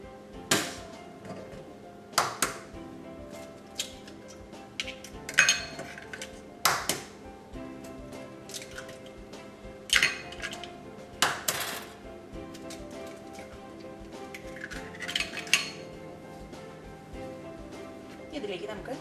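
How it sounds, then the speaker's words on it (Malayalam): Metal utensils clink and tap against a deep steel bowl as beaten eggs go in for a Kerala-style omelette, with scattered sharp clinks over a quiet kitchen background and a voice talking. "ഒരു നല്ല കുഴിയുള്ള സ്റ്റീലിൻ്റെ ഒരു പാത്രം എടുക്കാം. ഇതിലേക്ക് നമുക്ക് മുട്ട പൊട്ടിച്ചത് ആദ്യം ചേർക്കാം."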